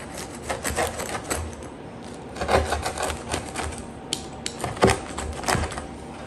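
A freezer pizza topped with Parmesan being cut into slices, a series of irregular crunchy cutting strokes and clacks against the board, fairly close and without talking.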